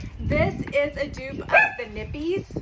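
Dogs barking indoors at a home, short yips and barks mixed with someone talking continuously over them, fairly close and moderately loud.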